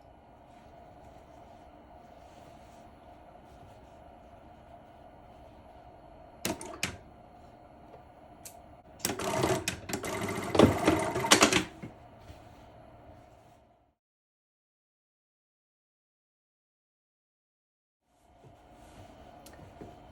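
A sewing machine stitching along a shirt neckline: a brief burst of stitching, then a louder, sustained run of rapid mechanical chatter lasting a few seconds, followed by silence and faint background sound returning.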